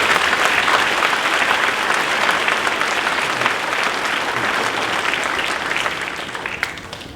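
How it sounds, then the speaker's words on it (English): An audience at a primary school prizegiving applauds steadily, a dense wash of clapping that holds strong and then begins to taper off near the end. "We can give them a round of applause, please."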